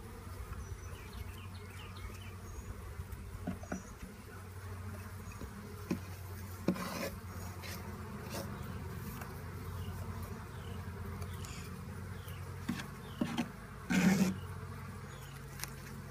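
Steady buzzing of honeybees being dropped into a hive fills the clip, a close, continuous drone with a few brief knocks and thumps along the way.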